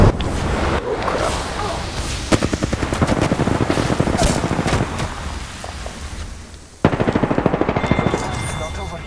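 Rapid automatic gunfire in the battle royale shooter Apex Legends, dense bursts rattling nearly nonstop and loud, dipping briefly before another sharp volley near the end.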